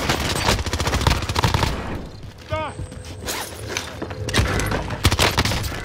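Rapid bursts of video game gunfire from submachine guns crackle through a firefight, dense and loud at the start and end with a brief lull in between, under game voice callouts.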